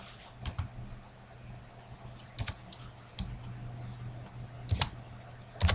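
Computer keyboard keys click in a few separate bursts, close and crisp, over a low steady hum, with no talking.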